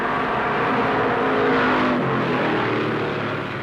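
1963 NASCAR stock cars racing at Darlington Raceway, a dense, loud, steady engine roar from several cars at high speed that swells slightly midway and stays constant throughout.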